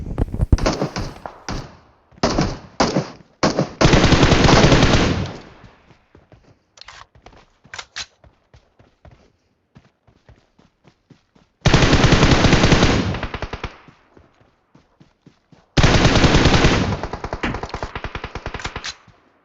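Gunfire in the mobile game PUBG Mobile on the Livik map: loud automatic bursts alternate with rapid single shots and brief pauses, some long sustained sprays near the end, close and punchy throughout.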